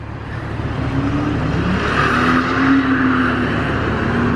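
A Ford AU Falcon with a welded diff skids, its engine roaring steadily with a rising, sustained tire screech over continuous loud drone, close and unbroken.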